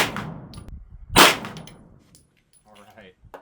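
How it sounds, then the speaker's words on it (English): Shots from an Accuracy X pistol ring off steel targets at 25 and 50 yards: two sharp cracks with a metallic clang and ringing decay, then quieter rustling and faint voices. "we'll shoot some steel at 25 and 50 yards"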